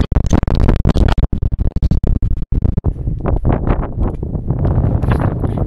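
Strong mountain gusts on a hiking trail in the Ukrainian Carpathians batter the microphone in choppy bursts at first, then settle into a constant loud roar of wind.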